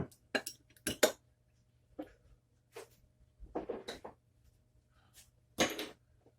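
A spoon scrapes and clinks inside a pot of beef stroganoff made with stew meat, in a few irregular bursts of metal-on-pot knocks separated by quiet pauses, fairly close with no talking.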